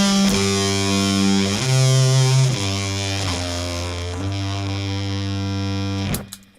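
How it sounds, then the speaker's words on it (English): A heavily distorted fuzz guitar rings out through an amplifier, sustained buzzing chords with a prominent high end changing every second or so, loud and thick, ending abruptly. "there's just this high end that just makes the sound of the fuzz really stand out"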